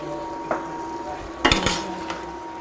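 A spoon stirring tamarind curry with brinjal in a metal pot, several sharp clanks and scrapes against the rim over a low background hum, close and fairly loud, with brief quiet voices.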